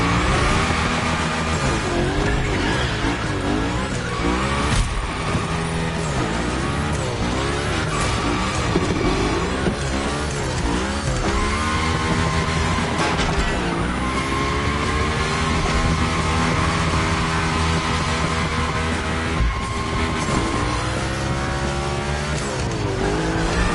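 A car, called the Unicorn, slides hard through a Gymkhana course in a racing video game, its loud engine roaring and revving continuously, with long tire squeals and skids over a steady, dense backdrop.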